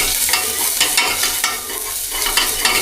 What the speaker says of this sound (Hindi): तो अब इसके अंदर अपने टमाटर और प्याज दोनों को फ्राई कर लेता हूँ